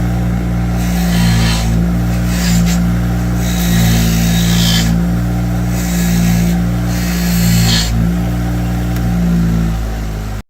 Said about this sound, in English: So I'll clean it on the wire wheel real quick.